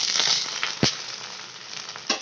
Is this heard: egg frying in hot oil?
yes